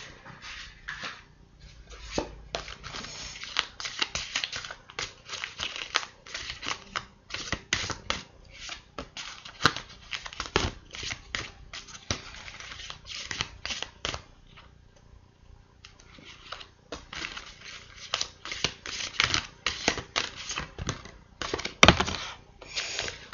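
Playing cards are shuffled, flicked and laid down on a table in a quiet room, making a long run of irregular soft snaps and taps that come in close, light bursts with brief pauses.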